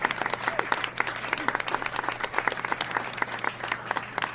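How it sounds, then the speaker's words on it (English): An audience in a lecture room gives a big round of applause, steady dense clapping from many hands running throughout at a fairly close, even level, with a low hum underneath. "give a big round of applause"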